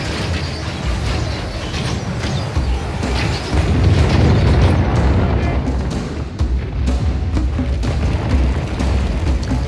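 Dense, loud rumbling battle din with deep booms of cannon fire in Medieval II: Total War, a continuous roar of overlapping explosions and clatter with no clear gaps.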